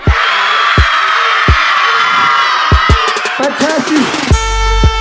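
Boys' voices erupt together in loud cheering, whooping and shouting, a crowd of children close by rising in bursts after a spoken countdown at a Danish Olympics-themed event, with an adult voice over them.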